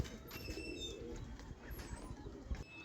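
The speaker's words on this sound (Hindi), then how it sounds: "बहुत प्यारे कबूतर है।" A pair of pet pigeons coos softly and quietly, with a brief flutter of wings and faint chirps in the background.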